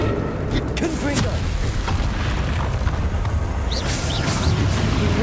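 A Confringo fire spell blasts during combat in Hogwarts Legacy, booming under a steady wash of game noise and background speech.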